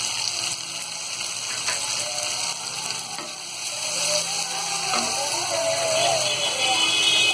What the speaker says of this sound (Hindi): टमाटर को हल्का फ्राई करने के बाद में अब इसमें हम ये कुटी हुई लाल मिर्च डाल देंगे